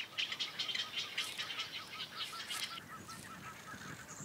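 Water birds call repeatedly in the Okavango wetlands, a flock of honking, goose-like cries overlapping in fast bursts, moderately distant and continuous, with no voices.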